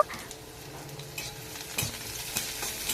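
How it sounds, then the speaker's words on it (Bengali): Chopped onion is stirred and lightly fried in a pan, a faint continuous sizzle marked by scattered spatula scrapes and taps, with no one speaking. "তারপরে আমি নাড়াচাড়া করে নিচ্ছি পেঁয়াজটাও আমি খুব একটা ভাজবো না তো হালকা ভেজে নেব"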